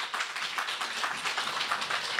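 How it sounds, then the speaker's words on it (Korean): An audience claps for the djembe and dundun players at an African culture event in a Gwanghwamun café, a moderate, steady patter of hands without talk. "박수 한번 부탁드릴게요."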